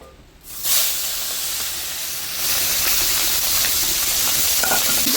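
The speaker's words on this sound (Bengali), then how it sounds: "তেল গরম হয়ে গেছে, আমি মাছগুলি এখন দিয়ে দেবো।" Stinging catfish hit hot oil for a light fry, bursting into a loud, steady hiss and sizzle that swells after a quiet start and keeps crackling on close by.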